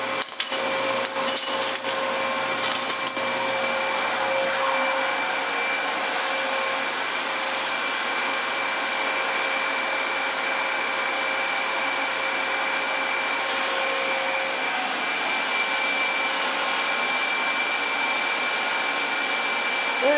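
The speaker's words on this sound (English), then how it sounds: "it's just running an initial rinse cycle to get the most of the milk residue out" Milking equipment washer running an initial rinse cycle to flush milk residue, giving a continuous loud whooshing rush of water and machinery with a steady hum and faint whine throughout.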